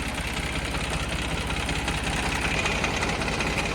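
A New Holland 3030 tractor's factory-fitted diesel engine runs steadily nearby, a loud, even throbbing idle with a rapid mechanical chatter and no voices.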